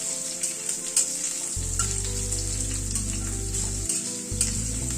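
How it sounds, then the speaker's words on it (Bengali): Potatoes frying in a pan for a broccoli curry, a steady close sizzle with soft stirring scrapes and a low hum underneath, no voices. "আলুটাকে আগে একটু ভেজে নেব।"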